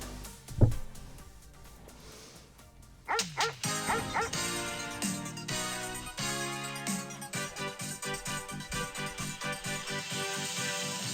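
Dog barking and yipping in a radio advertisement for pet owners, a run of sharp rhythmic barks over a produced background of music and effects, loud and close with no talk over it.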